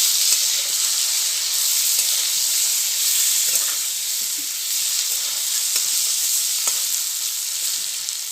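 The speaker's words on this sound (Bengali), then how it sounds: "আমি একটু ঢাকনা খুলে একটু নাড়াচাড়া করে দেবো।" Snake gourd curry sizzles loudly in an uncovered pan, a constant close hiss with a few soft scrapes and taps as it is stirred.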